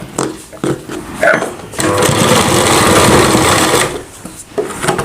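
A sewing machine runs steadily for about two seconds, stitching cloth for a Rajputi poshak kanchali blouse, preceded by brief handling clicks and followed by a short pause and fabric rustling.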